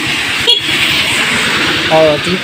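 A Suzuki Smash 115 motorcycle horn beeps twice over steady engine rumble, the second toot near the end, while someone talks in the background.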